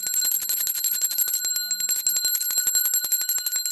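A hand bell rings for a roll call with constant quick shaking, a shrill metallic jingle that is loud, close and unbroken from start to end.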